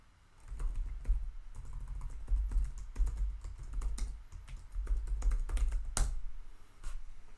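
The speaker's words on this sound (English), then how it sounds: "I'll just type in my git stuff" Rapid keystrokes on a computer keyboard entering git commands, a close steady patter of soft clicks in bursts with a brief pause and a louder key tap near the end.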